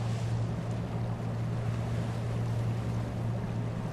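Water and waves wash steadily around a ship in a ship simulator video game, a continuous rushing surf with a low steady hum beneath, fairly loud and unbroken with no voices.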